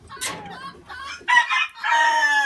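Light and blue Columbian Brahma chickens cluck close by, and a rooster crows loudly, several bursts of calls overlapping.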